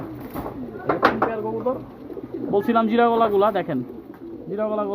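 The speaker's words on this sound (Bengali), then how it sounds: "এই দেখেন কবুতরগুলো কাছ থেকে দেখো" Several pigeons, among them jiragola and khaki types, coo close by in soft, throaty bursts mixed with a voice talking over them.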